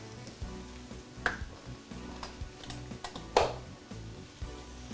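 Liver fries with onions and peppers in a pan, a low, steady sizzle broken by a few sharp clacks of the utensil against the pan as it is stirred, with no talking.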